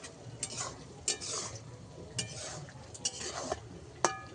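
Boondi being stirred through hot sugar syrup in a pan, with soft scraping and sloshing strokes and a few light clinks of a metal spoon against the vessel, close and fairly quiet.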